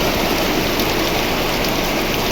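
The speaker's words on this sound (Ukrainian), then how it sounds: "Але забивний дощ такий великий-великий." Heavy driving rain pours down outdoors in a dense, steady, loud hiss with no gaps, filling the whole short stretch without voices.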